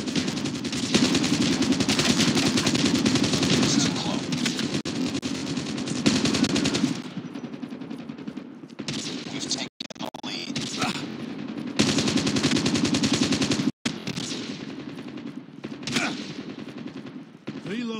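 Rapid automatic gunfire from a Call of Duty Mobile match rattles loud and near in long sustained bursts, with short gaps between volleys and a few sharp breaks.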